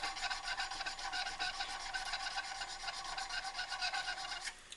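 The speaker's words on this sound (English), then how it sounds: "take a square needle file and then just square up the bottoms of that hole" A square needle file rasps inside a hole in a knife guard held in a vise, making quick, even back-and-forth scraping strokes, close and fairly faint, with no talking.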